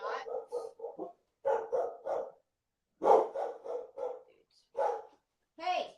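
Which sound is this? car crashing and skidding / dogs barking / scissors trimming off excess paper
dogs barking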